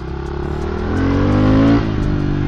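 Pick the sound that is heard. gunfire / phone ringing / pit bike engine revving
pit bike engine revving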